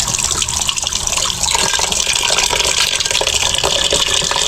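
Water pours steadily into a cooking pot for boiling pork, a continuous splashing gush that stays loud and even throughout, with no talking.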